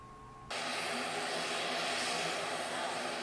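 A CN-295 turboprop plane arriving at Abdurrahman Saleh Airport in Malang sets up a loud, steady engine roar that cuts in abruptly after a brief quieter start and holds close and constant.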